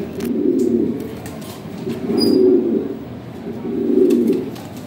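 A pair of Lahori Sherazi pigeons coos close by in three long, rolling bursts spaced about two seconds apart, with soft rustling between calls.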